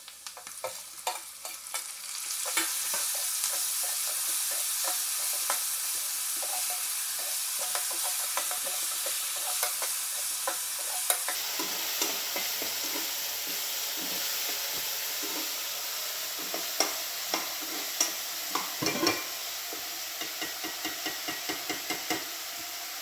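Prawn curry with tamarind just added sizzles and fries steadily in a pan, a continuous bright hiss under repeated scraping stirs and occasional utensil knocks, close and fairly loud with no talking.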